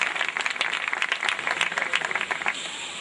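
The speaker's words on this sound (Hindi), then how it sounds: "जोरदार तालियों से" Loud applause from an audience at a graduation ceremony as a legislator arrives on stage, dense rapid clapping holding steady throughout.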